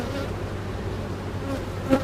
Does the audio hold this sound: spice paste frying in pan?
no